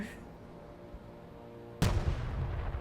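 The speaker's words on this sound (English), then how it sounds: "Are they going to move if I'm shooting with artillery, or are they just going to sit there?" Artillery fire in the video game Broken Arrow: after a quiet stretch of low background hum, a single loud, sharp blast erupts and then rolls on as a rumbling tail.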